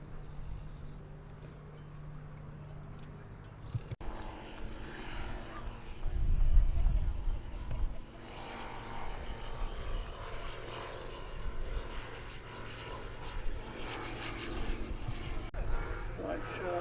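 A Merlin-engined aircraft flies at the Headcorn International Airshow, its engine drone moderately distant, swelling into a stronger roar midway before easing back to a steady hum beneath ambient outdoor noise.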